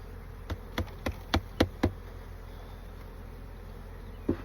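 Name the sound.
honeybees buzzing during transfer from nucleus box to hive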